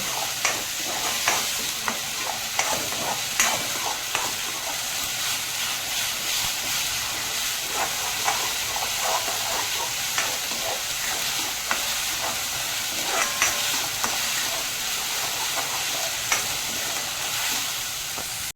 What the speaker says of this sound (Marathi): हे बघा, आता छान कांदा लसूण आलं सगळं भाजून झालेलं आहे.